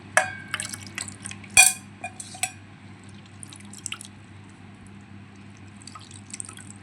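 Tamarind water is strained and poured, dripping and trickling in short bursts with a few soft clinks, quiet and close, against a low steady hum.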